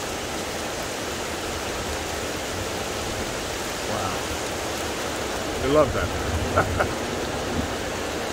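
Heavy rain pours in a dense, constant hiss during a thunderstorm in Florida, over a flooded street; near the end a voice speaks briefly over the downpour.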